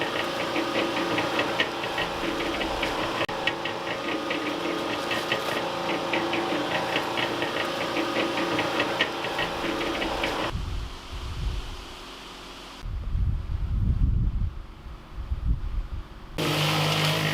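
A Harbor Freight electric cement mixer churns concrete with microfiber rebar, giving a steady close mechanical rumble and rattle for about ten seconds, then a quieter gap with low thumps before the running sound returns.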